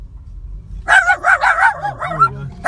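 Several dogs break out in a quick burst of excited yipping and barking after a short quiet start, loud and close, the high barks overlapping in rapid succession.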